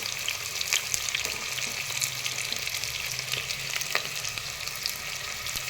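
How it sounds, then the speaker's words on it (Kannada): Onions frying in hot ghee in a pan for vegetable pulao, a steady, close sizzle with crackling pops and occasional spatula scrapes, no voices. "ಈರುಳ್ಳಿ ಸ್ವಲ್ಪ ಬ್ರೌನ್ ಕಲರ್ ಬರೋವರೆಗೂ ಫ್ರೈ ಆಗಲಿ"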